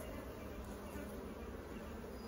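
Honey bees buzz around a brood frame lifted from a single brood chamber hive. Their hum is a dense, continuous drone, faint and even, with no talking.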